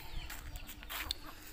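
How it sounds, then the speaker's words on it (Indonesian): Brahma chickens inside a coop, giving soft low clucks and short calls close by, fairly quiet, with no talking. "Pacekan jambrong alias ayam Brahma"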